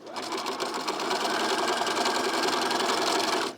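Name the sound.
sewing machine stitching through four layers of fabric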